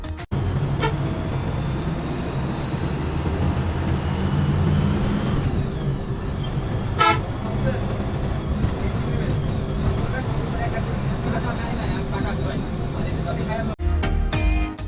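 A Hino 1J air-conditioned bus runs with a steady low engine drone and road noise, a sharp horn toot cutting through midway, passing traffic around it.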